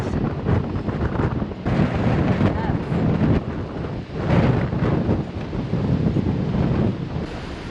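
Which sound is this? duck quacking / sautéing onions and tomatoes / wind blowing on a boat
wind blowing on a boat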